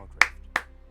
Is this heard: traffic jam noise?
no